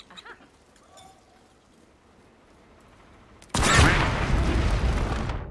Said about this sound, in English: Apparently that wood wall is enough to stop the explosion